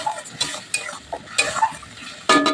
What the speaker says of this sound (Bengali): ভালো করে টমেটো পেস্ট আর পেঁয়াজ বাটাটাকে ভালো করে নেড়ে নেবো।